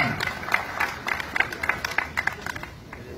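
An audience at a municipal event for a 2022 weapons-exchange campaign in Tlaxcala applauds, with sharp individual claps standing out over a crowd murmur before fading out.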